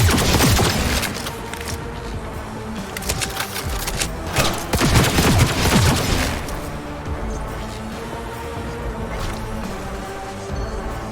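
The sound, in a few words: gunfire in the video game Cyberpunk 2077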